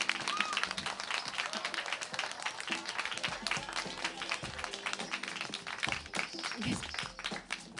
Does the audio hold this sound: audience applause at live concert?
yes